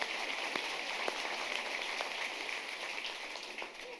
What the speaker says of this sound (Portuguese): Adoro aplauso.